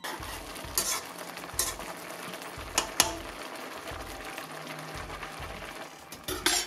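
A spoon stirs jeera rice as it boils in a pan, giving repeated soft scraping strokes in an irregular rhythm over a steady bubbling sizzle, close and fairly quiet with no talking.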